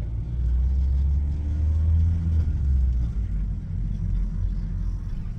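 Car idling and creeping in heavy traffic in Aksaray, a steady low engine rumble with gentle swells, close and continuous, with no talking.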